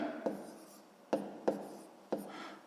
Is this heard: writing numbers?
yes